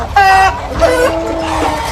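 Nearby chickens cluck and squawk in a couple of short, loud calls, one after another, over low background noise.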